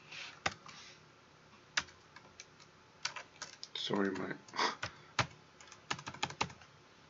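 Rapid typing on a computer keyboard with a faulty numpad key: scattered sharp clicks and short clattering bursts, close by, with a brief spoken apology mixed in.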